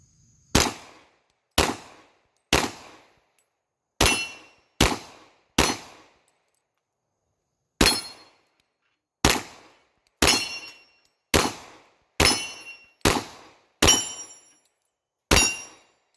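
Fifteen sharp, loud FN FNS-40 long-slide pistol shots ring out at an outdoor range, fired singly in an uneven rhythm with brief pauses and a longer gap midway, each crack echoing briefly.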